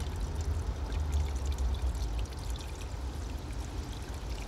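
Windshield washer fluid pours from a canister into the reservoir of a Skoda car, a steady, close liquid stream with a gurgling flow that eases slightly partway through, with no talking.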